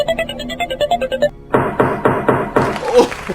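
Dice tumble and clatter across a surface during a Farkle game, several quick hard knocks in a burst after a stretch of tonal background sound, fairly close and loud.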